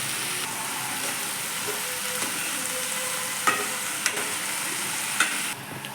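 Fenugreek leaves and garlic pieces with turmeric sauté in hot oil in a pan, a steady close sizzle with occasional scrapes and clicks of a spoon stirring.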